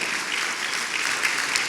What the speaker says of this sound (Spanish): Gloria a Dios, denle un aplauso.